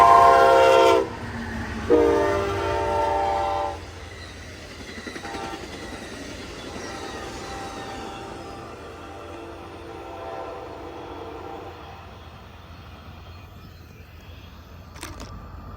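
An Amtrak Texas Eagle 21 passenger train, led by locomotive 63, blasts its horn loudly in long sustained notes, then passes with a steady rumble and faint wheel clatter that fades away.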